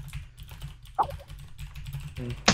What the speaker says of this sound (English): My keyboard, I have a gaming keyboard and it's so loud.